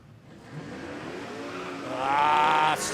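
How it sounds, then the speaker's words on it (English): A Holden HR station wagon and an XY Falcon launch at a no-prep drag strip, with a rising engine roar and tyre squeal that build over a few seconds and then cut off abruptly. "Smokes the tyres off the lane."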